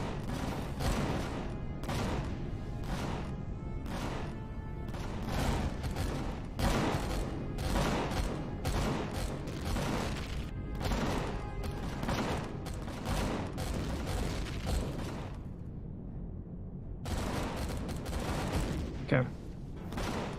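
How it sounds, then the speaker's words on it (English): Rockets and gunfire from turrets in the space survival game Empyrion Galactic Survival, heard as dense, continuous rapid fusillades and booms. The barrage is loud and constant and breaks off briefly near the end. "We got hit by a couple of rockets, so we'll back off and see how it went."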